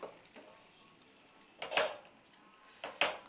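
A utensil scrapes and clinks against a pan while liver fry is stirred, with two sharp metallic knocks after a quiet stretch and softer taps early on, close and fairly faint.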